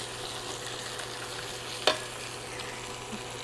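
Potatoes for a pork chop casserole frying in a pan, a soft steady sizzle with one sharp clack of a flip partway through.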